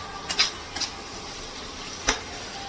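Chicken being sautéed for a Bengali-style chicken kosha in a pan: a few brief scraping stirs, close and moderately loud, over a faint steady background hiss, with no talking.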